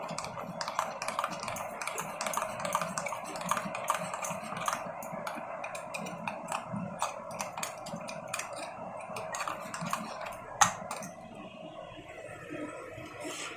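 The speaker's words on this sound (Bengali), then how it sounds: "একটুখানি জল দিয়ে এটাকে বেশ সুন্দর করে ফেটিয়ে নেব।" Rapid, steady clinking and ticking of a utensil whisking spice paste with water in a bowl, a quick continuous rhythm at close range with no talking.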